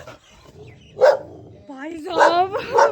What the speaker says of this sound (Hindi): गाइस बहुत खतरनाक कुत्ता है।